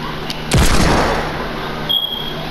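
Hand cannon gunfire in the Fortnite video game: a single sharp, loud shot bursts out and rolls into a booming, reverberant tail, preceded by a faint click.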